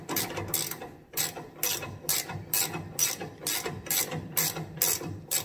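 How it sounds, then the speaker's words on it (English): A ratchet spins a locking nut off the sway bar of a Dodge Ram 1500 with a 5.7 engine, giving about ten rapid bursts of clicking in a steady rhythm, close and clear with no talk. "Now this will be a locking nut on here, so you do need to spin it all the way off."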